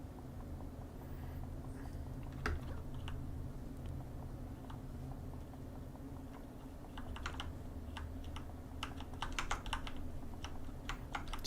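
Computer keyboard typing during a Project Gorgon play session: sparse, irregular key clicks early on that grow into a denser flurry of quick taps near the end, close and moderately loud over a low steady hum.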